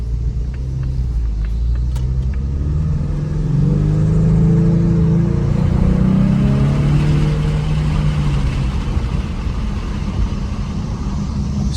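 A 2024 Ford Mustang with a 2.3-liter EcoBoost engine drives along, a steady low engine rumble with road noise swelling briefly as it accelerates, heard from inside the car.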